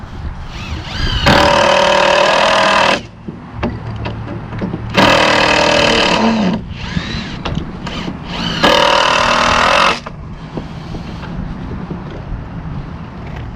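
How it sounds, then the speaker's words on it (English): A power driver sinks screws through a chicken tractor roof panel outdoors, three loud sustained whirring bursts of a few seconds each, separated by quieter gaps with handling noise and light wind. "take a screw, and we're going to sink it right through the middle."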